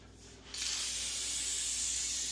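Aerosol lubricant sprayed onto garage door springs, a steady close hiss that starts abruptly and holds continuously without pause.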